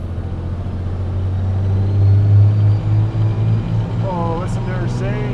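Diesel truck engine fitted with an HX35 or BorgWarner K27 turbo running loud on a dyno, a heavy sustained rumble that swells in the middle and then eases, with people talking over it toward the end.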